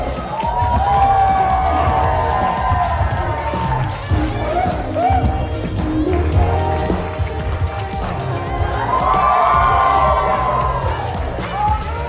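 A lively wedding crowd cheers and whoops for the newlyweds, with shouts and excited voices rising and falling over loud background noise.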